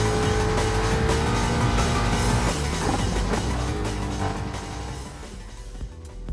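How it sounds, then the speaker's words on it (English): Four-wheel drive rally cars over 500 horsepower, such as a Ford Focus, Subaru WRX, Lancer Evolution and Ford Mustang, race in Gran Turismo Sport, with loud roaring engines and tire noise that ease off slightly toward the end. "These are all four-wheel drive off-road monster machines exceeding 500 horsepower."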